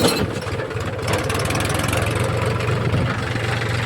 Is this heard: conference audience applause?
no